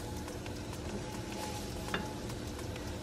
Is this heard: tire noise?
no